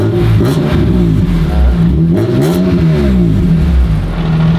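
A loud tuned BMW E46 M3 engine revs up and down close by, its exhaust rasping with a tinny edge and rising in pitch in repeated surges.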